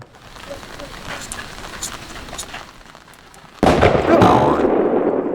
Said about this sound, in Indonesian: Ya siapa kok colok mercon kana?